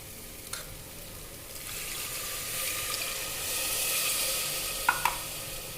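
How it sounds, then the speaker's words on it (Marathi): Water poured into a pan of oil-fried stuffed brinjals gives a soft, rising hiss and sizzle. A few sharp utensil clicks sound near the start and the end, with no voices. "मी इथं छान तेलावर वांगे मस्त तेलावर फ्राय करून घेतली आहेत आता आपण ह्याच्यामध्ये पाणी घालू"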